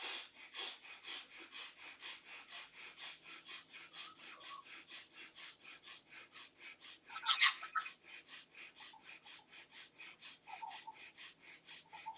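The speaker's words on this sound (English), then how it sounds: "start breathing quick and fast from the chest" Quick, rhythmic chest breathing during a guided breathing exercise, a steady train of short sniffing in-and-out breaths repeating roughly twice a second, close and fairly soft, with no talking.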